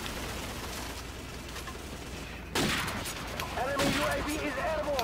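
Gunfire in a Call of Duty Modern Warfare Remastered online match, a steady crackle of rapid distant shots with louder bursts kicking in partway through, under game ambience and a voice speaking.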